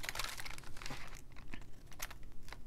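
Paper being cut around its edge with scissors while decorating a folio for making ephemera, giving soft crinkling, snipping and rustling sounds up close with no talking.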